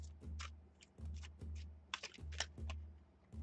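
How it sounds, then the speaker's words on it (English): Tarot cards are shuffled quietly up close in a steady rhythm of soft thumps about once a second, mixed with crisp papery clicks and riffles and no voices. "shuffle with my eyes closed is the best way to do it"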